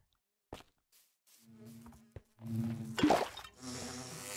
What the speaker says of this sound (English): That's an angry bee.